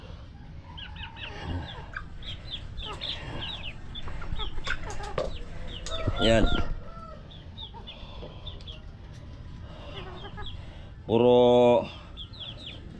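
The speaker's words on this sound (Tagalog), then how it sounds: "Mga malaking manok yan." Large chickens cluck close by in a rapid, uneven series, including a louder drawn-out call near the end, while someone talks over them at intervals.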